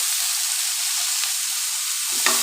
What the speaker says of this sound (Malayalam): നമ്മൾ ഉഴുന്ന് വറുത്ത അതിൽ തന്നെ നമുക്ക് ടൊമാറ്റോവും വഴറ്റി കുറച്ച് ഉപ്പിട്ടിട്ട് നന്നായിട്ട്